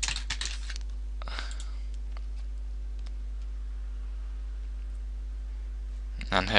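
A password typed on a computer keyboard: a quick burst of close key clicks at the start, a few scattered taps, then another flurry at the end over a steady electrical hum.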